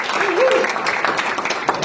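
Conference audience applauding at an international event, clapping mixed with a voice speaking over it and a brief vocal cheer near the start.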